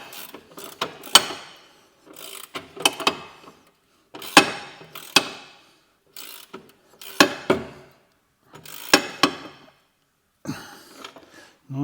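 A ratchet tightens a nut onto a Vauxhall Corsa C wishbone during a DIY replacement, giving repeated bursts of close, clicking ratchet strokes in short groups separated by brief pauses.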